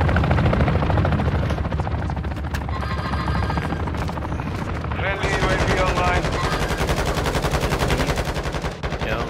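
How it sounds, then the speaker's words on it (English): Sustained automatic gunfire and bursts in a first-person shooter video game, loud and continuous alongside a helicopter's rotor drone, with radio-style voices speaking over the combat. "Taking effective fire!"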